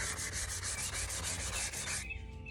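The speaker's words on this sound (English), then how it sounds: "And then use my fine grit sandpaper." Close, steady rubbing and scratching of fine grit sandpaper on a glittered tumbler, a continuous gritty hiss that stops abruptly near the end.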